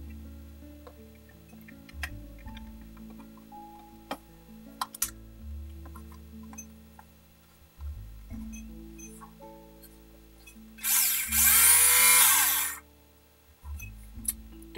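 A small Tamiya electric handy router runs in short bursts, a low motor hum shifting in pitch between scattered light clicks, then rising into a louder, harsher whir near the end.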